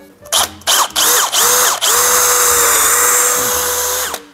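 A power drill driving screws into an MDF cabinet, with several short whirring bursts followed by a long sustained high-pitched run, loud and close with a ratcheting edge and no talking.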